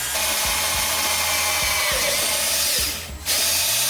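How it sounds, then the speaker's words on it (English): A power drill grinds steadily into hardened steel during work on a 1965 Mustang, a loud continuous whine with a brief dip in speed near the end before it bites again. "these are hardened steel and will take a very long time to drill through."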